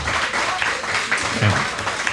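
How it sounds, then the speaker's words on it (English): A crowd at a live podcast recording in a pizza venue applauds a guest, a moderate, steady wash of clapping with a low voice briefly heard beneath it. "Give her a round of applause."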